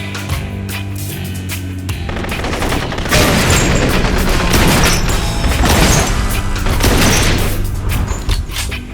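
Heavy gunfire in the action video game Blue Estate, loud rapid bursts and booming shots layered over game music, becoming denser and louder after the first few seconds with no speech.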